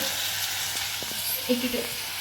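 Heated oil with chili powder is poured over tomato chutney and hisses in a steady broadband sizzle, close by, with a few faint clinks near the end.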